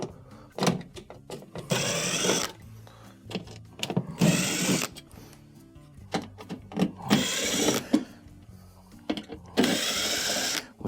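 Phillips screws being backed out of the cover panel on a Samsung refrigerator, heard as a series of close, repeated ratcheting and scraping bursts separated by short pauses, with no talking.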